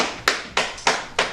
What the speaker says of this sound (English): The clerk involuntarily applauded.